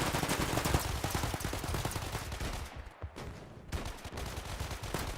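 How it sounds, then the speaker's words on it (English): SMG gunfire in the pre-alpha video game Shatter Rush, rapid automatic bursts of shots rattling almost continuously with a short pause midway, loud and dense. "that SMG keeps running out of ammo exactly when I need it"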